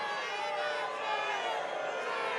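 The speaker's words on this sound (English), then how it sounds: "Graham was booed" Crowd noise at a Trump rally in South Carolina as Senator Lindsey Graham is booed, a steady, dense roar of many voices sustained throughout without a break.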